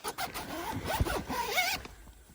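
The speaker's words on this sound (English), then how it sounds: "Let's zip it up like we're going hunting." A zipper on a hunting blind is pulled shut in a few quick, close raspy strokes, loud and crisp, with no talk.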